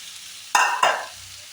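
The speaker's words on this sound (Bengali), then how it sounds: "আর এখানে শুক্তো একটু ভেজে নিচ্ছি" Shukto vegetables frying in a pan with a Bengali home cook stirring them, giving two short, loud bursts of sizzle and scraping over a quieter background hiss.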